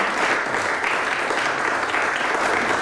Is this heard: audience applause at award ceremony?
yes